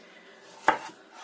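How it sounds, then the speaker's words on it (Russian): A knife chops onion finely on a board, a single sharp cut standing out in the middle against a quiet kitchen background. "У меня вот такая четвертинка, лук я режу довольно мелко."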